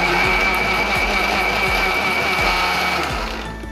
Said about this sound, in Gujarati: દાળને આપણે હાવ જ ક્રશ કરી લેવાની છે અપમ બનાવવા.